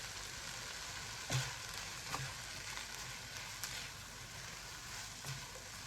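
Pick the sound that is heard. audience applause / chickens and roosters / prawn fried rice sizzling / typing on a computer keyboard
prawn fried rice sizzling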